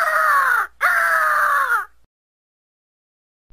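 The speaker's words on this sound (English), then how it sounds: "Bald eagle." Bald eagle call: one high, harsh two-part screech with a brief break in the middle, clear and alone, followed by silence.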